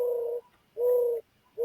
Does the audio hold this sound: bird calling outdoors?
yes